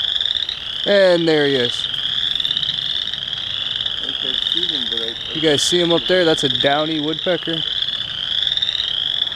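Frogs croak in a wetland, loud and close: repeated rapid trilling pulses in several bursts over a constant high insect-like drone, while someone talks over them.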